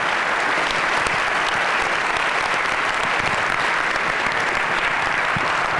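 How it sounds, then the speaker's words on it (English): Audience applause for astronauts at a large space conference event in Guadalajara, a sustained, even wash of many hands clapping from start to finish, with no voices on top. "I wish you to give them a very big applause, to thank them for sharing their time with us."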